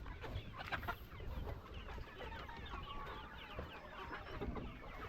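Chickens cluck steadily inside a poultry house, overlapping soft clucks and chirps forming a busy but faint flock murmur, with no talk.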